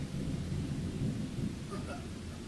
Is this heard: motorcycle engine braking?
no